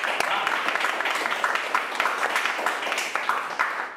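An audience gives loud applause welcoming guests at a Gujarati film awards nominations event, a steady, dense wash of clapping lasting throughout at close range.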